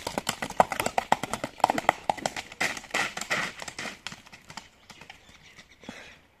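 Hooves of a black horse offered for sale in a Kyrgyz village clip-clop in a quick, steady rhythm on hard ground, moderately close, then fade and slow toward the end.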